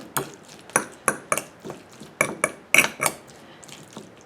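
Utensil tapping and scraping in a bowl while mixing guacamole, a series of sharp close clinks at irregular intervals, fairly quiet between strikes.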